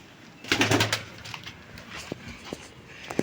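Domestic pigeons kept in a loft, cooing softly with a few low murmured calls near the start, followed by scattered light clicks and rustles; fairly quiet and close, with no talk.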